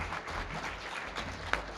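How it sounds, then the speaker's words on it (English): Applause rises from the audience at a 2016 small business awards ceremony as Mike Fowler is called up, a soft, distant and fairly steady patter of clapping with one sharper clap standing out. "But Mike, give him a round of applause."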